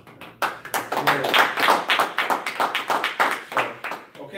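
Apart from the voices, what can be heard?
round of applause, clapping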